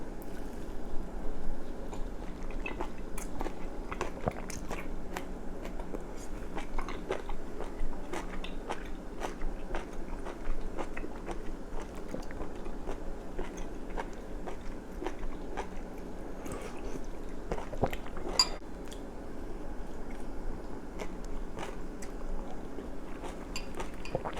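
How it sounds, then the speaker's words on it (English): Someone eats Korean vegetable soup with broth and king oyster mushroom, making quiet, close chewing and biting sounds with occasional soft clinks of cutlery and dishes throughout, and no talking. "Okay, let's eat it like a soup now."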